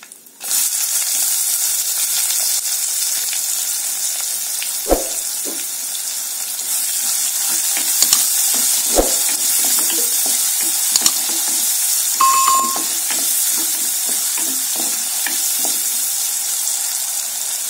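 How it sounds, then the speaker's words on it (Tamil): Finely chopped large onion fries with asafoetida in hot oil for bottle gourd sambar, producing a loud, continuous sizzle with scattered stirring knocks and scrapes. "வெங்காயம் வதங்கிருச்சு."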